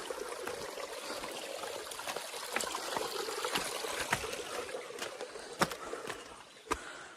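Water trickles and flows steadily outdoors into a river pool in Konkan, a soft continuous rush with occasional sharp knocks and splashes, fairly quiet.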